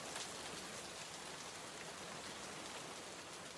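Steady rain falls in an even, dense hiss throughout, soft and distant, with no voices over it.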